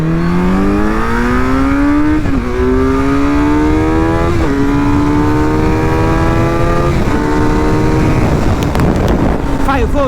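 A Kawasaki Z900 motorcycle engine revs loud and close, its pitch climbing in repeated steps as it pulls through the gears over about ten seconds, with wind rush building toward the end.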